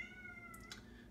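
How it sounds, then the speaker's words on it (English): A domestic cat gives a single drawn-out meow with a clear tonal line that holds steady, heard close and fairly quiet in an indoor room with no one talking. "And that's my cat."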